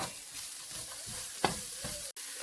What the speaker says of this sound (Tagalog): Padayon ng tagisa.